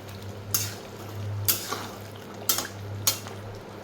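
Fried onions and chillies added to paneer do pyaza in a pan, heard as a handful of sharp metallic clinks and scrapes of a utensil on the pan over a low background hum, no talking.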